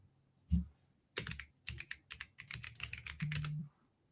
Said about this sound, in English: Steph's abused keyboard. I type pretty fast.